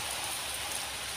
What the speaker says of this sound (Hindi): और बारिश आने भी लग रहा भैया